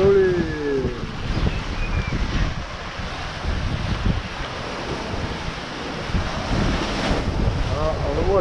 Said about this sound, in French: On le voit qu'il y a de belles vagues là.